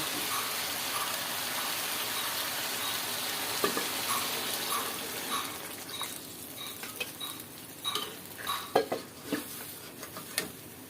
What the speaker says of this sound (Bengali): এখন পরিমাণ মতো ঝোল দিয়ে রান্না করে নেব।